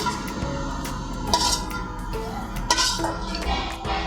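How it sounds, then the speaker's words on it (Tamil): Fried capsicum poriyal is moved into another pan with a metal spoon, producing a series of close clinks and scrapes of metal against cookware, with a few sharper knocks. "இதை வேற ஒரு பாத்திரத்துக்கு மாற்றிக்கலாம்"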